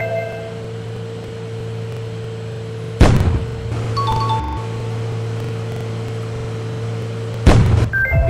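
Two sharp, loud firecracker bangs in a train simulator video game, spaced a few seconds apart, cutting through a steady electronic hum, with a brief crackle after the first.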